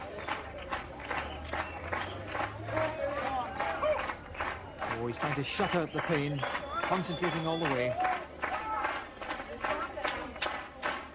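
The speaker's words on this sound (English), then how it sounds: "Great encouragement from the big crowd, though." A big crowd at the 1989 World's Strongest Man cheers and claps steadily for strongman Bill Kazmaier during a biceps-straining hold, the roar running under excited commentary throughout.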